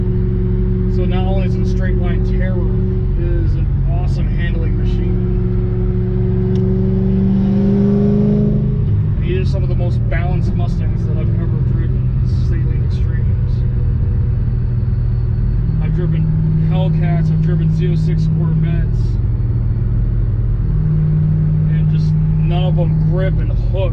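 A 2006 Saleen Extreme's engine drones steadily while driving, its pitch rising and falling with throttle changes, loud and close with a voice speaking over it.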